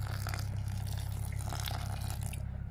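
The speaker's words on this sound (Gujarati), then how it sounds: "હા, એ થોડુંક નાખી દેવી પાણી." Water trickles and splashes steadily while patra is being made at home, a close, continuous pour with faint drips over a low hum, ending abruptly, with no talking.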